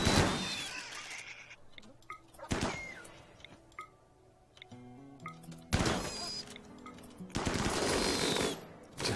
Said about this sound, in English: there goes the minigun